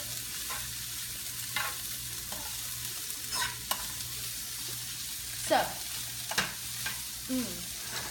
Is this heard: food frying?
yes